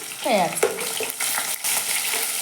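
Onions frying in a hot pan, a steady close sizzle with a brief sharp crackle early on as they hit the oil and keep cooking.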